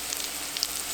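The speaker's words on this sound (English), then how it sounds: "see the onions are getting a little brown on them, sizzling in that bacon fat" Onions sizzling in hot bacon fat, a steady close crackle with small pops breaking through.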